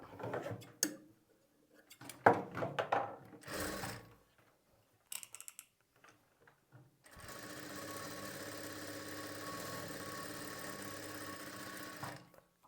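A sewing machine stitching a half-inch margin on a plain blouse starts after scattered handling clicks and fabric rustles, then runs in a steady, fast, even whir for about five seconds before stopping.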